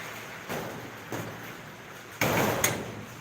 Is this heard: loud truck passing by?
no